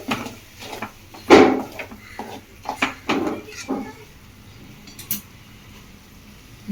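Tomatoes and green chillies stirred in a pan, a utensil scraping and knocking against the pan in a handful of separate close, fairly loud bursts with quiet gaps between them.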